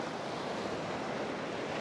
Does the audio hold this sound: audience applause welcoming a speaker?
no